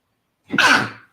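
One short, sharp sneeze bursts out of silence, close and fairly loud, with a quick breathy intake before it, in a quiet room during a class.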